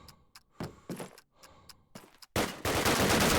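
Gunfire in the competitive shooter Call of Duty: United Offensive, a series of separate sharp shots and metallic clicks followed by a loud sustained burst of rapid fire at the end.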